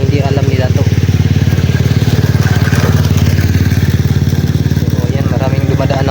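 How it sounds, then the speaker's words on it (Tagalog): Motorcycle engines rumble on a busy road, a loud, steady pulsing drone that stays close the whole time, with people talking over it. "maraming dumadaan ng motor ay daanan kasi ito mga tol"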